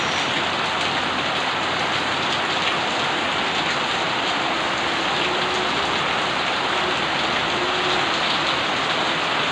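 Heavy rain pours down steadily, a dense, loud hiss of water drumming on surfaces with no voices, continuous throughout.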